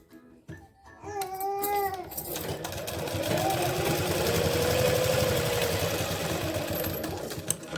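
A sewing machine stitches pintucks into fabric for a pant design, its steady mechanical whirr running loud and continuous for several seconds after a brief burst of talk at the start.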